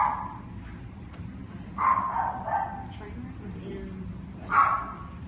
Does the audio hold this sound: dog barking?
yes